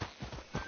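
Horse hooves clip-clopping on a road in the video game Red Dead Redemption 2, a few close, steady hoofbeats in a short burst.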